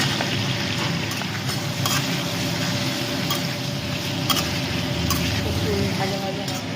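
Black cumin seeds frying in a wok, a steady close sizzle with faint crackles and occasional stirring clinks, continuous throughout, with speech over the sizzle.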